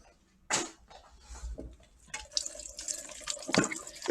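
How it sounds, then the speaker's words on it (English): Tap water runs over organic broccoli in a kitchen sink, a splash starting abruptly and then a steady rinsing flow with brief surges, fairly close and alone. "I'm going to take the broccoli and rinse it off."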